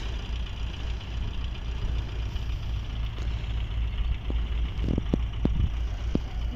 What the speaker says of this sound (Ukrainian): зараз буде сіяти другий трактор, а той поїхав далі дискувати